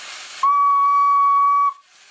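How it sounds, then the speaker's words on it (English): A whistle used to steer a homemade robot bulldozer sounds one loud, steady, pure tone lasting over a second, close and alone, cutting off abruptly into a faint hiss. "watch your treads as I blow the whistle"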